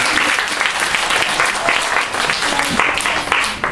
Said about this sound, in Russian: давайте похлопаем артистам